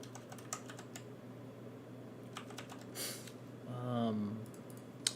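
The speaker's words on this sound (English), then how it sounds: "So you're going to hear a little bit of typing." Rapid clicking of computer keyboard keys while checking a character build in Honkai: Star Rail, steady light typing throughout with a brief voiced sound near the end.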